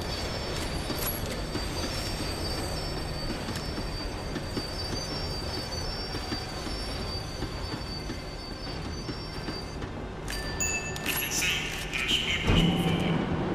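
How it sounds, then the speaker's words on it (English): A tram in the video game Max Payne 3 slows down with steady rumbling and long metallic wheel squeals throughout, growing louder with a sharp screech near the end, no talk. "The tram was slowing down, and I'd only just gotten on board."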